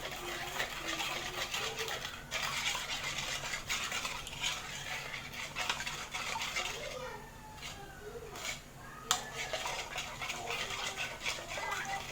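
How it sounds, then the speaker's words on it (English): A spoon stirs seasoning into eggs in a bowl, giving soft, steady scraping and clinking close by at low volume, with one sharper tap near the end. "get a spoon and mix the seasoning with the eggs"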